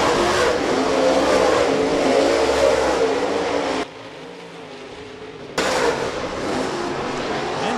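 USMTS race cars in a heat race at Rapid Speedway, a loud continuous engine roar close by that drops briefly to a distant drone before surging back.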